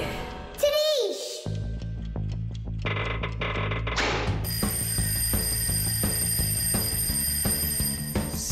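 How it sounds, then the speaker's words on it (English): In an animated children's cartoon, an alarm clock rings with a bright, continuous metallic trill over the second half. It follows busy cartoon sound effects, with voices speaking over it. "I think I can hear my alarm ringing"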